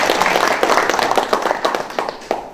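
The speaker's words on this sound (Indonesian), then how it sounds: "Tepuk tangan buat Pak Ketua." Clapping for a party chairman at a Democratic Party office, a fairly close, loud burst of hand claps that thins into scattered individual claps toward the end.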